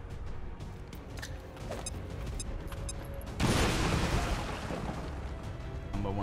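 Grenade blast followed by gunfire in a video game: a loud broad burst around the midpoint, set among scattered shots and mechanical clatter, with no talk.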